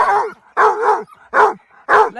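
A dog barks repeatedly during an armadillo hunt at night, loud and close, with four bursts of yelping barks and short whining gaps between them.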